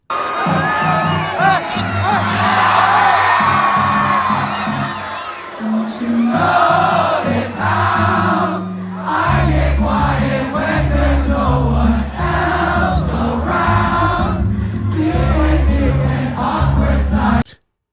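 A Minnesota crowd yells and cheers loudly, with overlapping shouts and voices swelling in repeated bursts, dense and close, over a booming low rumble.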